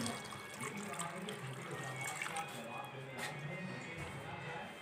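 Water from a jug pours into a pressure cooker holding beef trotters for paya, a steady splashing trickle heard close up under a voice speaking.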